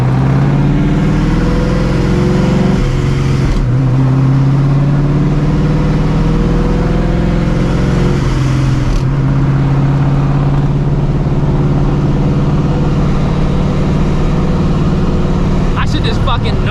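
A supercharged New Edge Mustang GT driven with no hood gives a loud, steady engine drone with a shift break near the start and engine pitch shifting as it pulls, heard from inside the car with no talking.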